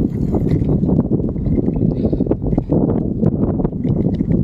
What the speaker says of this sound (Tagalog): Medyo malakas-lakas ang hangin dito banda.